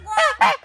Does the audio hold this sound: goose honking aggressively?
yes